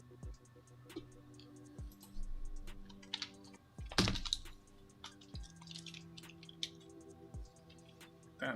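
Keys clacking on a computer keyboard in quick, irregular bursts, close and fairly quiet, with a few louder strikes and soft background tones.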